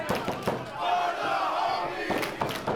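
A crowd at a Rival Pro Wrestling tag team match between Los Suavecitos and Krusty Krew shouts and chants in a rising, uneven wave of voices, fairly distant and moderately loud.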